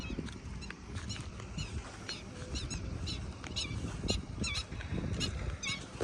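Repeated sharp, high-pitched calls of a red-wattled lapwing ring out at a moderate distance over a constant low rumble of outdoor background noise.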